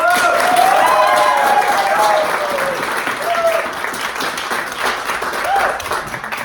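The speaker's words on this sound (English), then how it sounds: "Let's give a huge round of applause for Andre Popa" An audience at a business mindset training event applauds, a loud sustained wash of clapping with a few cheering voices rising through it.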